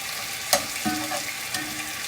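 Meat browning in a hot pan for a Philly flatbread, a soft steady sizzle broken by a few sharp scrapes and clacks of a utensil turning pieces.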